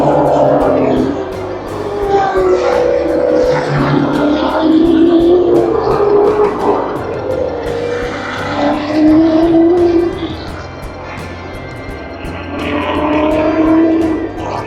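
Trans Am race cars of about 850 horsepower charging around Lime Rock Park in the rain, loud engines rising and falling in pitch as they pass one after another, roaring throughout with a brief lull midway.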